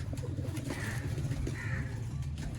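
Golden breeder pigeons coo softly, with a couple of low, rolling coos over a steady murmur of more birds nearby.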